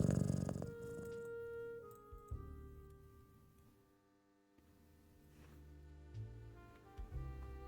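A cat purrs softly while being petted in the detective game Best Served Cold, a faint, steady low rumble with a quiet background hum and no talking.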